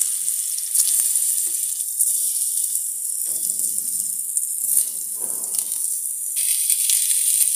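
Ridge gourd frying in a little oil in a pan for chutney, giving a steady, close bright sizzle and hiss throughout with a few faint scrapes of stirring.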